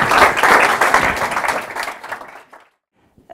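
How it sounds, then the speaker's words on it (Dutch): Audience applause for a guest speaker at a lunchtime sermon event, dense clapping from many hands that fades out after about two and a half seconds, leaving near silence. "ik wil u graag een hartelijk applaus voor Marley Huijen."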